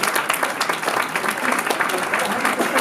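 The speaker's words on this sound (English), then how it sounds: "Let's give him an applause." A seated audience at a community forum applauds after a presentation, producing dense, steady clapping at an even level for the whole stretch.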